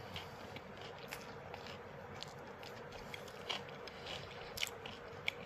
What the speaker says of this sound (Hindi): अभी मैं इसकी लूँगा बाइट और आपको बताता हूँ इसका रिव्यू